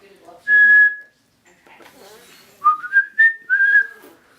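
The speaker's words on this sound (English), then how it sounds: "Now, whistling. Let's see whistling." A person whistles a long clear note, pauses amid faint rustling, then whistles a quick run of rising notes close to the mic.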